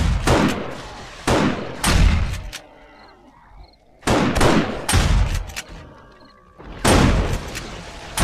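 Several loud, sharp booming rocket launcher blasts in 7 Days to Die in irregular succession, each decaying with a rumbling tail, separated by quieter pauses.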